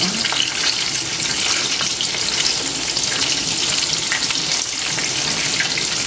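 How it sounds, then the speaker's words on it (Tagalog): Food deep frying in a pan gives a steady, close sizzle and crackle with faint stirring, heard alone without talk. "Deep fry ka na nga."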